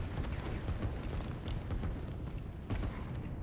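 Artillery in the Line War strategy game booms continuously in a dense, rumbling barrage, one sharp louder blast standing out near the end, with no voices.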